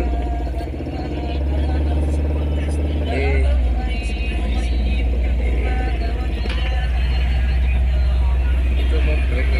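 Astina 1.8 straight-four engine revving, a loud low rumble that rises in pitch then settles toward a raised idle, with someone talking over it.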